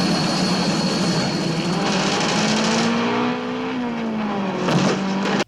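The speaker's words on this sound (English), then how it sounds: "Helicopter car chase." A helicopter thunders close over a racing car in a 1977 Bond film chase, its droning engine and rotor tone wavering in pitch as the vehicles roar along, loud and unbroken until a sudden cut at the end.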